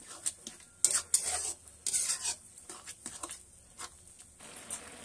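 Grated carrots and sugar are mixed in a pan for gajar halwa: uneven scraping and clinking strokes of a spoon against metal over a faint background hiss, close and intermittent.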